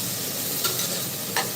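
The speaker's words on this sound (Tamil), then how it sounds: "வெங்காயம் எந்த அளவுக்கு வதங்கி வந்துருக்கு பாருங்க." Onions sautéing in a pan for mutton curry with a little turmeric added, a steady close sizzle with two brief scraping stirs.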